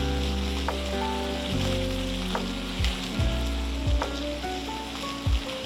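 Spice paste of cumin and green chilli fries in oil for a Bengali pabda fish dish, a soft sizzle with a few sharp scraping thuds from the spatula pushing it around, no voices.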